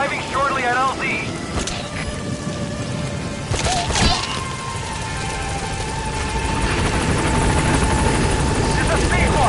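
A helicopter flies in the video game Metal Gear Solid V, its rotor thrum steady and loud throughout, with game radio chatter and in-game sound effects over it.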